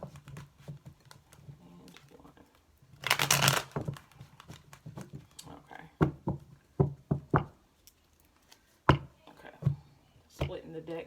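A tarot card deck is shuffled in several quick riffling bursts, the loudest a dense rush near the start, followed by scattered soft taps and card slaps, with a voice speaking intermittently around them.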